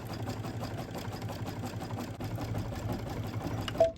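A sewing machine stitches with a steady, low mechanical whir and rapid rhythmic needle ticking, fairly close, ending with a brief brighter clack.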